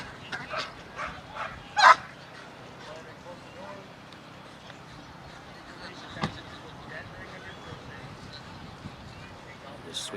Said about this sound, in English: Good barking post bite.